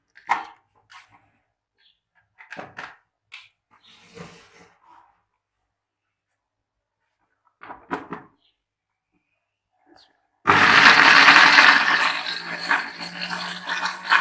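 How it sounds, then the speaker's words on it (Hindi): Electric grinder running loud and continuous as it grinds softened red chillies with water and salt for a chutney, starting abruptly after a stretch of quiet kitchen clatter and scattered handling noises. "हुण इन्हां नूं ग्राइंड करूंगी।"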